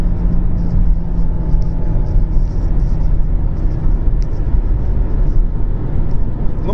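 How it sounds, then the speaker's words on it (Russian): A Volkswagen Passat B7 with the 2.5-litre CBTA engine heard from inside while driving, a steady low engine drone and road rumble with constant whirring, loud and unbroken throughout. "вот проехались на машинке"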